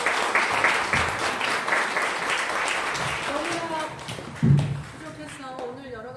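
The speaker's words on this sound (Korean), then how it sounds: "큰 박수 부탁드리겠습니다." An audience at an academic conference gives applause, a dense patter of clapping that is loud at first and then thins out, with a voice speaking over it near the end.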